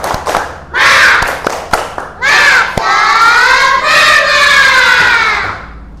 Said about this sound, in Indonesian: tepuk semangat dulu yuk